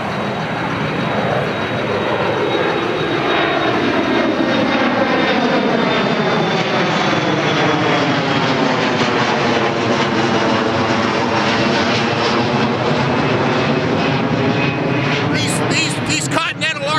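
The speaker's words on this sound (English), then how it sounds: "Another plane." A fixed-wing airplane flies overhead near the historic fort, its loud steady engine roar swelling and dominating throughout, with a faint changing drone as it passes.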